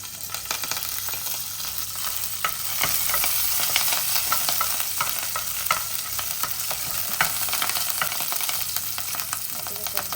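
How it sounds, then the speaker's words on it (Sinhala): Garlic, curry leaves and pandan frying in hot oil for a homemade chicken curry, a loud, dense sizzle with stirring and crackle throughout, no talking. "දැන් තෙල් ටික රත් වෙලා තියෙන හොඳට. අපි දැන් මුලින්ම දාගමු. සුදු ලුණු. කරපිංච ටික. සම්පේ."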